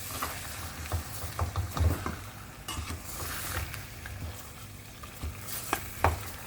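Mutton karahi being stirred and fried in a kadai wok, with an uneven sizzle, scraping and clattering utensil strokes throughout, heard alone without talk.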